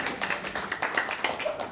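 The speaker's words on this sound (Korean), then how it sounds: "박수." Applause from an audience at a Korean community forum opening address, a thin scattering of hand claps that carries on steadily at moderate distance with no voices over it.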